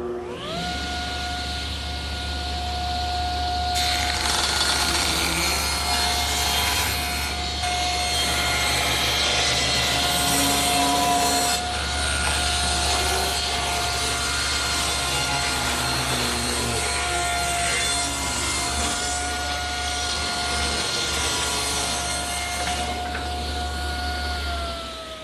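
A table saw rips a thin strip off the edge of a wooden board for a rustic coffee table. A steady motor drone runs throughout, with louder grinding stretches as the blade cuts through the wood.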